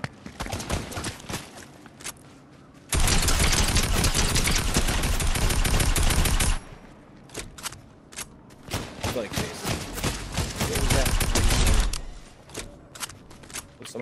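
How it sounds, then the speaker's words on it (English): Sustained automatic gunfire from NPC enemies in Fortnite rattles in a long dense burst, then returns as choppier, scattered volleys, loud and close, with a voice briefly under the shots. "Yeah, it's NPC shooting at us."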